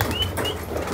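Pigeons let out of their loft, with soft wing flutters and faint cooing over a steady outdoor background, brief and close.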